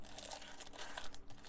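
A plastic bag crinkles up close during an unboxing of a business card holder, quiet rapid rustling and crackling for a moment with no talk.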